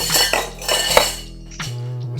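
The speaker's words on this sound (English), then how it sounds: "some ice cubes in our tin," Ice cubes clink and rattle into a metal cocktail tin, several quick bright knocks and a jangling tumble while mixing a holiday gin cocktail, close and loud with no talking.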